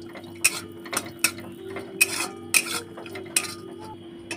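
Cashews and raisins lightly roasting in a pan, stirred with a metal spoon that clinks against the pan in regular sharp taps about every half second over a low sizzle, with no talk.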